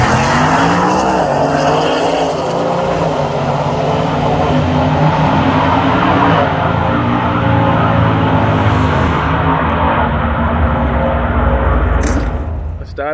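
A Ford F-150 pickup makes a hard drag strip run, its engine roaring loudly and steadily as it accelerates and pulls away, with rising engine tones and a brief sharp noise at the end.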